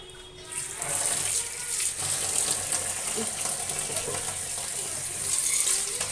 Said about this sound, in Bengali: পাতাগুলোকে মোটামুটি করে ভালো করে ধুয়ে নেব